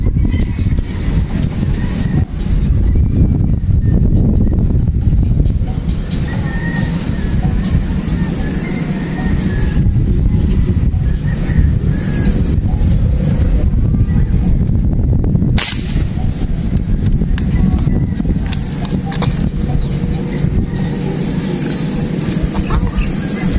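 Steady, loud wind buffeting an open shoreline spot during airgun fishing, with a broad continuous rush throughout and brief bursts of talk and handling sounds mixed in.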